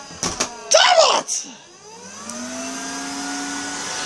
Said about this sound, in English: Donkey, you get out of the way or I'll hoover you!